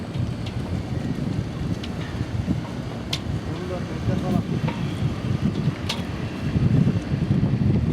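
Wind roars steadily across a harbour on the Greek island of Symi as the ferry approaches the pier, with a low rumble of water and engine beneath faint scattered clicks and knocks.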